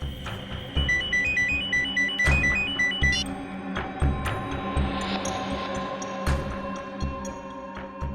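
A melodic phone ringtone chimes repeatedly in a short electronic tune, heard over background clatter and thumps.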